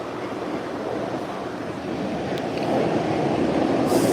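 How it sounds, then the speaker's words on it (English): A commuter rail train rolls along the tracks with a steady, loud rumbling roar that swells slightly toward the end, and no voices are heard. "we're gonna be taking the train one stop"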